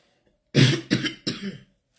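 Three quick, harsh coughs in a row, close and loud, with silence before and after.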